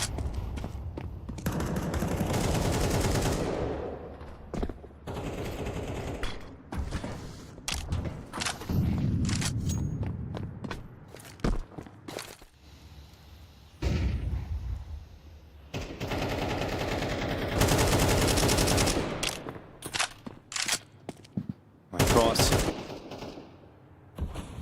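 Automatic AK rifle fire in a Counter-Strike match, loud bursts and rapid volleys recurring across the stretch with brief gaps, mixed with other game noise and a voice talking over parts of it.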